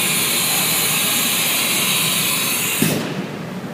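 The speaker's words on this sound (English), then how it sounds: "In order to change the tooling on this machine, we can simply hit automatic tool change reverse or forward" Automatic tool changer carousel on a HAAS CNC machine, heard as a steady loud whirring hiss from the machine, followed near the end by a brief clunk as the motion stops.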